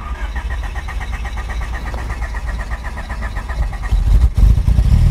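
A 1986 Honda car cranks with a rapid, even churning for several seconds, then catches and fires up into a louder, rougher idle near the end.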